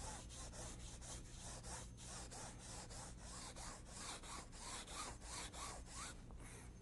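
A paintbrush rubs paint back and forth across canvas in quick, steady strokes, a soft rhythmic scrubbing that is faint and close, with no one speaking.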